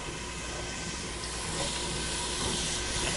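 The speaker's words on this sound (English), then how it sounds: "if your oil's hot, you should get a nice sizzle when you go in the pan" Chopped onions, carrots and celery hiss and sizzle steadily in hot oil in a pan, a broad, even crackling wash with no talk over it.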